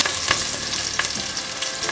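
Curry leaves and green chillies sautéing in hot oil with mustard seeds, a dense continuous sizzle punctuated by a few quick stirring scrapes, close and alone.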